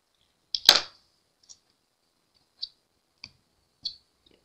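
Rotary cutter or scissors trimming a quilting half square triangle of fabric: one sharp cut near the start, then four faint, spaced clicks, close and quiet with no voices.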